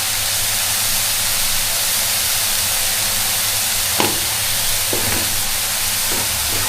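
Broccoli and mushroom frying in a pan with salt added, a steady sizzle and hiss throughout, with a few sharp utensil clicks and stirring sounds near the end.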